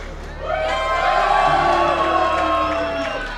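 A large convention crowd at a live speedrun event roars and cheers, a loud sustained wave of voices and whoops that swells and holds for a few seconds.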